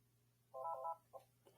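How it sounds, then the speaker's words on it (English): An office test phone line rings on an incoming call from another phone, giving a short, faint electronic burst of ringing followed by two briefer chirps, with no talk. "the other phone should be ringing now"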